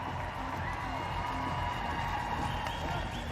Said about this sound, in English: there's the cheer for IJsbrand